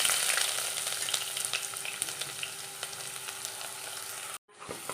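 Onion and ginger fry in coconut oil, giving a steady close sizzle with crackles and stirring clicks that fades slightly before cutting off abruptly near the end, with no speech.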